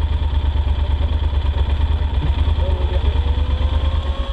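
A motorcycle engine idles nearby, a loud steady low throb with even pulsing firing rhythm that holds throughout without revving.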